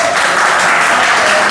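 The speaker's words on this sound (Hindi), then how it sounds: "ताली बजा दो" A brief burst of dense audience applause at a motivational talk about confidence, loud and continuous with many hands clapping together.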